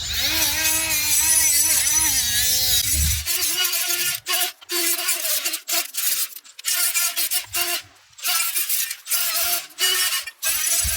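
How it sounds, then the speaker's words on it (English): A pad scrubs the hub face on an Alfa Romeo Stelvio's rear brake, first a steady rubbing, then a quick series of short close scratching strokes with brief gaps between them. "take a little pad here, clean up the face of this hub"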